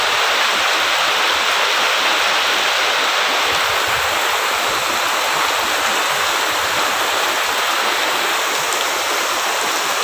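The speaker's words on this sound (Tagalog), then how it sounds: "Ang hinahanap-hanap nating malakas na ulan." Heavy rain pours down in a steady, dense hiss that stays loud and unbroken throughout, with no voices.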